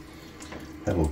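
Cold tap water runs into a bathroom sink while a face is wetted before a shave, a soft splashing that swells louder near the end.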